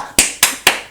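A pair of hands claps four times in an even rhythm, each clap sharp, loud and close, with short quiet gaps between.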